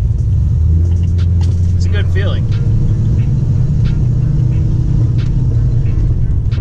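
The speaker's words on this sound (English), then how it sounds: "Car drives pretty straight." A rebuilt 2002 Chevrolet Camaro SS cruises with a steady loud low rumble of its engine and road noise, a brief rev change midway, while someone talks over it.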